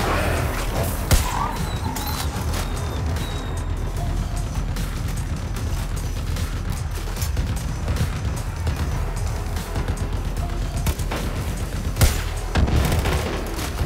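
Gunfire in Far Cry New Dawn: a dense, continuous battle mix of repeated shots, booms and mechanical clatter that stays loud throughout, with sharper reports now and then.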